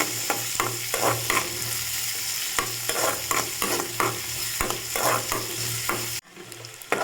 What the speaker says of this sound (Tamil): வெங்காயத்தை நல்லா பொன்னிறமாக வதக்கிக்கோங்க